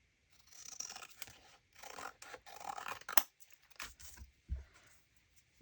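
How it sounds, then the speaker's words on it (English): Scissors trimming pasta box cardboard, a series of close, dry crunching snips and scraping cuts in uneven bursts with short pauses, one sharp click midway and a low thud near the end. "I'm just going to trim this with my scissors"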